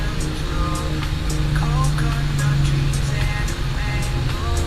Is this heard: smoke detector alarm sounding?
no